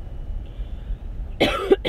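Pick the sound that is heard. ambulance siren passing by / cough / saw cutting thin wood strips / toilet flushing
cough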